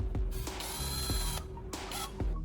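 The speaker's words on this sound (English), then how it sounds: "I turn on the drill and press the tip against a piece of sandpaper to sharpen it" Electric drill spinning with a soldering iron tip pressed against sandpaper to sharpen it: a whirring motor with a rough grinding edge, broken by sharp ratcheting clicks at short, uneven intervals.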